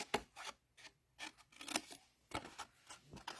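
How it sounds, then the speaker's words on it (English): Scissors snip through paper pieces to trim them at an angle for a heart-shaped double-layer box, with a quick series of close, crisp cuts and light paper rustling in a quiet room. "just go ahead and trim those up at an angle"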